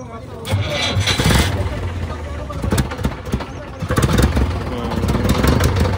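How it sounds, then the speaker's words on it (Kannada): A motor engine cranks and starts, rumbling and sputtering loudly at close range with bursts of revving, while a person talks over it. "ಇಂಜಿನ್ ಸ್ಟಾರ್ಟ್ ಮಾಡ್ಕೊಂಡು"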